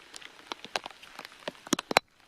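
Scattered raindrops tap irregularly on a surface outdoors, quiet individual patters with a few sharper, louder drops near the end.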